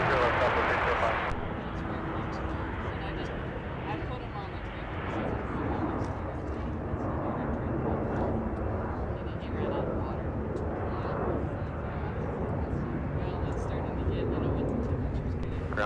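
An airliner lands on runway 30 left at Minneapolis–Saint Paul airport, producing a continuous broad jet roar that holds for about sixteen seconds, with faint voices beneath it.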